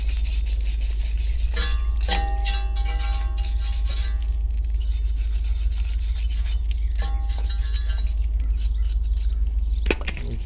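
A wire brush scrubs brake parts on a Nissan Xterra being fitted with slotted rotors and spacers, giving close, bursty scraping and rasping strokes with scattered metallic clinks against a steady low hum.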